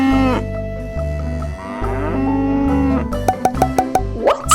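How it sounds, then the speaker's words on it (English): A cow on a farm gives several long, loud, low moos close by, followed by a run of short sharp knocking sounds. "The cow says moo."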